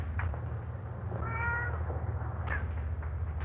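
In a 1934 horror film, a cat meows faintly in a drawn-out call over a low, steady hum, with a few short mews from other cats of a large collection nearby.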